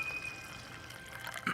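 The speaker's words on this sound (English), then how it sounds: "Pour this into the bowl." Liquid pours into a bowl in the adventure game The Book of Unwritten Tales, a faint, quiet trickling stream lasting barely over a second.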